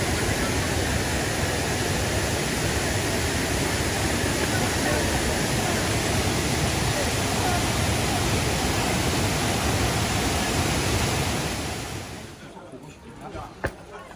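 Tat Kuang Si waterfall near Luang Prabang, Laos, roars as a loud, steady broadband rush of falling water close by, then fades sharply near the end, leaving quieter surroundings.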